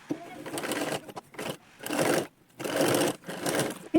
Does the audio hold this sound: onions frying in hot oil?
no